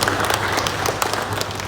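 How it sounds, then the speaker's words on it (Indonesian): An audience at an Indonesian press association inauguration in Pelalawan breaks into applause, a lively, close crackle of many hands clapping with some sharper individual claps poking out, steady across the short span. "Kami berikan tepuk tangan Bang Raja Ihsan"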